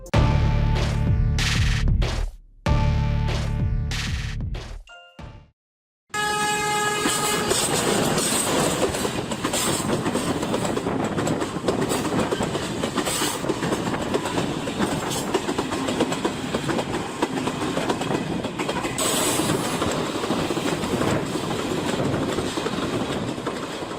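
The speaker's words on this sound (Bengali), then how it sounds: "তাহলে বেছে নিতে পারেন বেনাপোল এক্সপ্রেস ট্রেনটি" Benapole Express passenger train running on rails, loud rhythmic clickety-clack and rumbling wagons close by, with a short stretch of quieter rail noise before the steady roar sets in.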